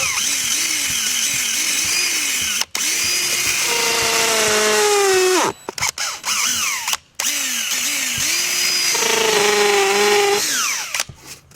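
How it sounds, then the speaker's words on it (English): A power drill whines up and down as it bores a 3/8 inch hole into wood, in two long bursts with short pauses and clunks between them. "I'm just going to drill a hole."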